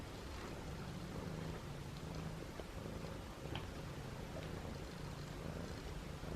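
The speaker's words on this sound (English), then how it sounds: "Richard is purring so loud." A cat named Richard purrs softly and steadily up close, a low continuous rumble that runs throughout.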